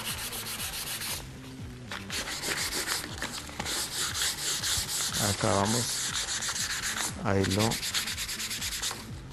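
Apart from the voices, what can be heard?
sanding with 150-grit sandpaper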